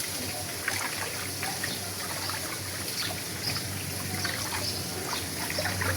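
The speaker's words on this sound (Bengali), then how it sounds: "পুঁই শাকগুলো খুব ভালো করে ধুয়ে নিলাম কয়েকবার, লাস্টবারের মতো আরেকবার ধুয়ে নিচ্ছি।" Water runs and trickles steadily while Malabar spinach leaves are washed a final time in a kitchen, a constant close splashing stream with faint handling noises throughout.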